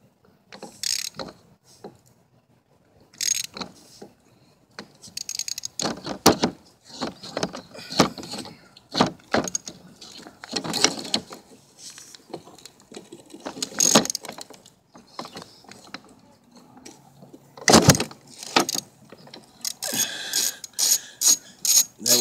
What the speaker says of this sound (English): We're going to unscrew this.